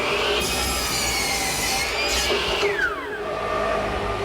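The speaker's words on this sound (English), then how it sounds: "I've just made a half-lap joint. What I'm using is a stacked dado head cutter with about 3/4-inch width" A stacked dado head cutter about 3/4 inch wide cuts a half-lap joint in wood, a loud continuous whining roar of the spinning blade chewing through the stock, steady for several seconds before the pitch drops as the motor winds down.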